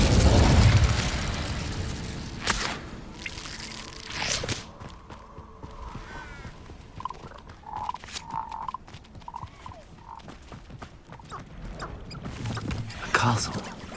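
The Incendio fire spell goes off in Hogwarts Legacy, a loud whooshing burst at the start that fades into scattered footsteps, small pops and ambient game sounds, with a voice briefly speaking.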